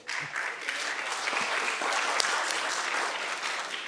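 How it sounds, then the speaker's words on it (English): Sustained audience applause at a stakeholder meeting on the Lagos-Calabar highway, a dense, steady wash of many hands clapping at moderate volume for the whole stretch, with no speech over it. "If you had clapped like this for me, maybe I wouldn't have been able to answer the question."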